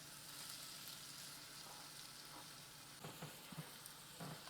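Garlic and onion frying together in a pan on a home stove for a cauliflower gravy, a steady close sizzle with occasional stirring scrapes near the end and no talking.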